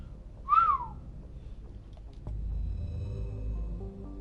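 A person whistles an imitation of the Mako vehicle from the game Mass Effect taking off: a single rising-then-falling whistle near the start, followed by a low steady background hum.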